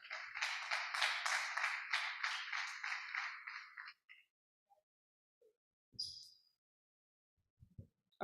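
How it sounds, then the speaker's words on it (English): An audience at a health sector governance event claps in a quick, fairly faint burst for about four seconds, then stops, leaving near silence with a few small knocks. "Please don't stop clapping."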